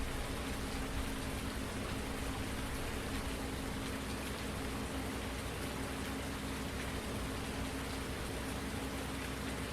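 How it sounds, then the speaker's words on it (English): Rain falls steadily across a farm in Farming Simulator 19, a dense, even hiss of drops that fills the whole stretch at constant loudness without pauses or speech. "Rain's not washing it in too much right away."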